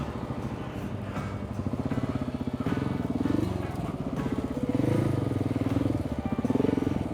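KTM 690 single-cylinder motorcycle ridden through trees on Malcolm Island, running tall stock gearing with heavy clutch work; a steady, close engine drone rises and falls as the throttle opens and eases, with no talking.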